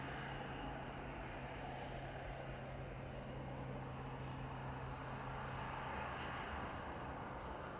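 A jet's reverse thrust on landing at East Midlands Airport, a broad steady roar with a sustained low hum, heard from a distance at moderate level and holding constant for the whole stretch without any voices.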